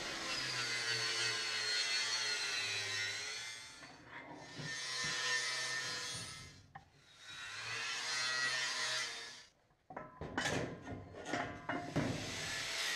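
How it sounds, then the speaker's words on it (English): Grinder cleaning up metal on a homemade car rotisserie holding a Porsche 914, with long loud rasping passes that rise and fall in two main runs, then clattering handling noises, and no talking. "let me just grab the grinder and we'll clean this up"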